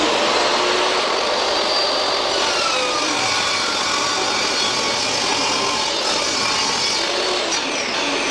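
A saw cuts through a window jamb extension board, a steady, loud, continuous rasping drone that holds for the full length without pause.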